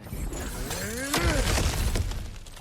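Breakable objects smash and shatter in God of War Ragnarök, a loud crashing burst of splintering debris with a short vocal grunt mixed in.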